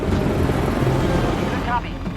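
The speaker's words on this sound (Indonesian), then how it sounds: "helikopter sudah berada tepat di atasnya" A helicopter hovers overhead in a film scene, a loud continuous rumbling drone that fills the whole span before easing slightly at the end.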